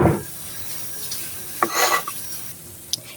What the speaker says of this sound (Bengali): এটিও ধীরে ধীরে এপিট উপিট করে সুন্দর করে ভেজে নিব